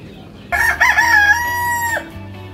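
A rooster lets out one long, loud crow nearby on a backyard free-range chicken farm, with faint clucking around it.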